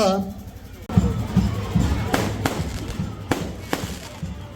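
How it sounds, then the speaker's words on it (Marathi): Firecrackers and fireworks go off at a wedding, a series of sharp bangs and cracks spaced unevenly over a low rumbling crowd and voices. "फटाक्यांची आतिषबाजी चालू आहे बघा मित्रांनो."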